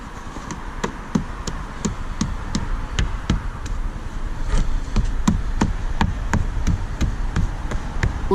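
Regular sharp knocks tap away at the plastic A-pillar trim of a car while it is pried loose during a dash camera hardwiring job, about two per second, steady and close, with no talking.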